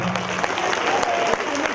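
An audience at a spiritual talk on meditation breaks into a short burst of applause, dense clapping that overlaps with a speaking voice.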